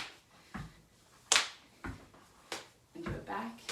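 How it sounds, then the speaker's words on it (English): Someone standing on one foot claps a hand against their calf muscle, giving several sharp, close slaps spaced irregularly about half a second to a second apart, with a brief voice between them. "See if you can stand on one foot and clap your calf."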